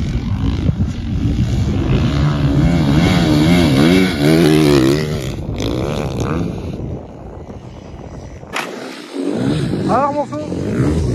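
A 450 motorcycle rides across sand, its engine buzzing loudly and rising and falling in pitch as it passes, with a brief drop near the end before the engine roars back; voices are heard over it.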